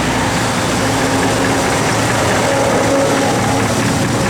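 A 1969 Dodge Charger R/T with converted electronic ignition runs steadily, giving a loud, continuous engine drone and rumble with no pauses and no voices.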